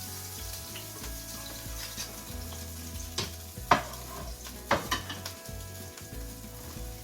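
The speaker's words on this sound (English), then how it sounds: "we want to go ahead and pull our meat off the pan." Seared beef sizzles steadily in a hot pan on a stovetop, and a few sharp utensil clinks ring out as the meat is lifted off. The sizzle stays close and continuous, with no talking.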